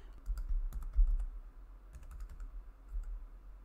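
Steady typing on a computer keyboard while entering a Wi-Fi network name and password into Tasmota on a smart switch, with clusters of quick, close clicks and brief pauses between bursts.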